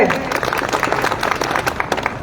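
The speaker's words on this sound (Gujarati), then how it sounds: "આપણે તાળીઓના ગરગડાટ સાથે" A crowd at a political rally in Gujarat claps in a dense, lively burst of applause, the claps close and uneven, with a voice briefly mixed in.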